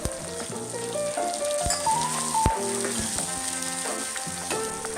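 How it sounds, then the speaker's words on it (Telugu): Onions, curry leaves and crushed garlic frying in a pan, a constant close sizzle under louder tonal music with a couple of sharp knocks, no speech. "ఇప్పుడు కట్ చేసి పెట్టుకున్న ఉల్లిపాయ ముక్కలు, కరివేపాకు, కచ్చా పచ్చా దంచి పెట్టుకున్న 6 లేదా 7 వెల్లుల్లి పాయలు వేసి"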